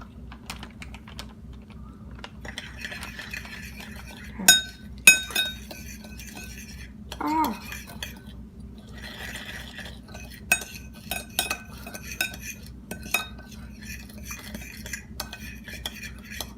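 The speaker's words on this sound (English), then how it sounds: "you're gonna want to take 2 teaspoons of ground cinnamon and just mix it together" Spoon stirring ground cinnamon in a dish, light scraping and clinking taps against the bowl in irregular bursts, close and moderately quiet over a low hum, with no voices.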